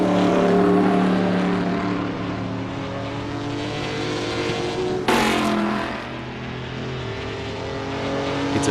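Historic race cars circle Monza in 1966 trim in Assetto Corsa, with loud, sustained engine howls that swell and fade as cars pass, a sharp burst marking one car blasting by midway.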